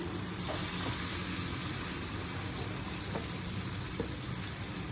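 Chillies and spices fry with a splash of added water in a pan for a cauliflower dish, a steady low sizzle and bubbling hiss that runs evenly throughout, fairly quiet, with a few faint stirring clicks.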